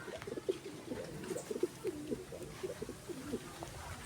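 Several pigeons coo in soft, repeated rolling phrases across the whole stretch, fairly close but quiet, with faint background rustle and no voices.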